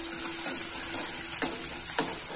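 Onion and chillies sauté in oil for masala Maggi, a soft continuous sizzle broken by a few sharp clicks and scrapes of a stirring spoon against the pan, with no voices.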